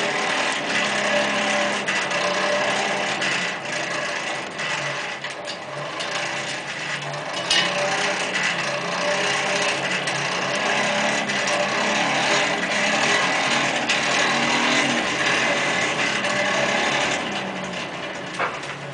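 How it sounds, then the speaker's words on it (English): A hand-cranked blacksmith forge blower whirs and ratchets steadily with a continuous geared mechanical rattle, close and even throughout. "this particular style of hand blower was first introduced in the mid-1800s"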